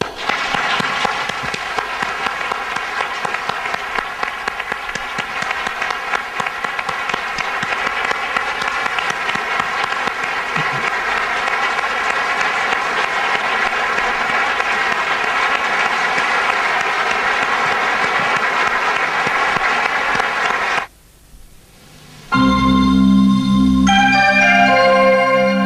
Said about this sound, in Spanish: Dediquémosle nosotros un aplauso caluroso a este gran hombre y gran amigo que se nos fue.